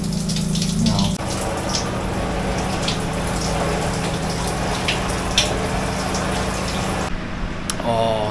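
A shower runs in a luxury penthouse bathroom in Cancun, Mexico, giving a continuous, even hiss of spraying water close by that holds steady throughout, with a brief change in the flow near the end.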